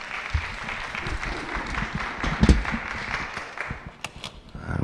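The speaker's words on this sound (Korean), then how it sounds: "목사님 나오실 때 큰 박수로 환영했으면 좋겠습니다" A church congregation at a Monday worship service applauds as a pastor comes out, steady clapping throughout with some louder bursts and a few distinct near claps toward the end.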